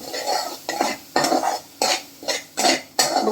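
A spoon stirs mango pulp into semolina in a pan over low heat, making close, rhythmic scraping strokes about every half second with a soft sizzle, no talking.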